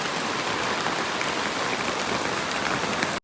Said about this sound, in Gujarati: થોડી વાર વરસાદ આમ રાડ દઈને પડ્યો ને પછી વરી ધીમો પડ્યો